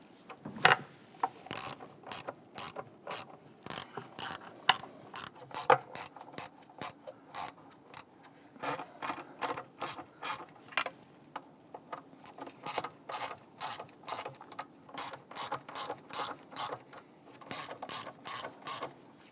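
A ratchet clicks in quick repeated bursts while intake manifold bolts are started on a Jeep Grand Cherokee 3.6L V6, close and crisp, with short pauses between runs.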